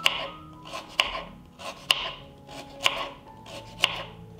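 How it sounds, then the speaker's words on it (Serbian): A knife chops carrots into thin rings on a cutting board, with five crisp, evenly spaced chops about one second apart, close and fairly quiet, each followed by a soft scrape. "iseckat ću na tanke kolutiće pola kilograma šargarepe"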